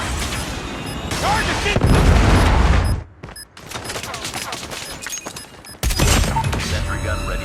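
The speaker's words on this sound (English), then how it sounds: "Predator missile inbound." Predator missile strike in Call of Duty Mobile, loud booming explosions and rapid gunfire bursts, then a short lull before another blast, with a brief in-game voice line.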